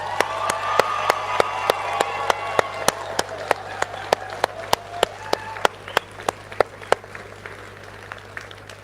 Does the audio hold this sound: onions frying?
no